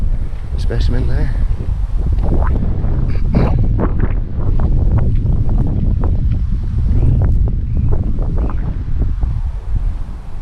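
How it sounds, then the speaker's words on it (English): Gusty wind blows through a garden, rumbling steadily against the microphone while someone talks over it throughout. "It's a bit on the windy side, unfortunately."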